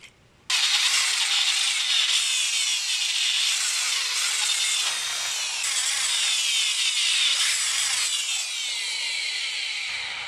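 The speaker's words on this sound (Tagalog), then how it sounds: "bubutasan natin dito yan para mag thread tayo" A power drill bores a hole that will be threaded for a bolt, giving a loud, steady high-pitched grinding whine that starts abruptly after a short pause and runs nearly unbroken for about ten seconds, with no talking.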